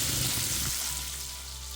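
A pan of tomato and chilli masala fries for a Dhaba-style egg masala, giving a steady close sizzle with a low bubbling layer that settles slightly partway through, no voices.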